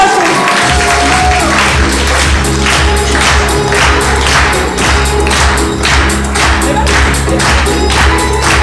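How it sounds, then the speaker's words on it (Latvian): An audience applauds at a health talk on disease prevention and nutrition myths, dense steady clapping with a rhythmic thumping beat underneath, loud and close for several seconds. "Aplausi!"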